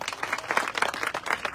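Audience applause at a religious gathering honouring a guru, a dense burst of many hands clapping at once, steady and fairly close, with no talk over it.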